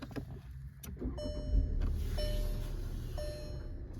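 A 2024 car powering up with a push-button start: three short electronic chimes sound at even intervals over a steady low rumble, with no voices.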